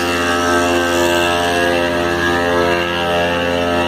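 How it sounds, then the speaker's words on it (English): A noisy engine-driven water pump feeds fire hose lines at a forest fire, a loud steady mechanical drone with a constant pulsing hum, close and uninterrupted with no voices. "And that noisy pump is pumping the water to the lines."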